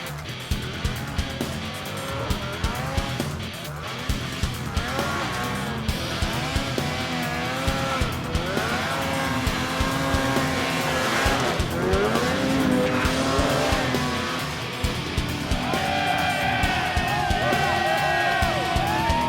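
Snowmobiles race up Snow King Mountain near Jackson Hole, a loud continuous engine roar with pitch rising and falling as sleds climb and pass, steady and dense throughout.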